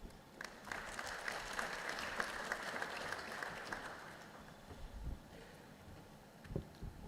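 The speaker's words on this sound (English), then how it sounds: "Another warm round of applause" An audience at a regional advisory committee meeting applauds steadily for several seconds, dense clapping from many hands, then it thins and fades out toward the end.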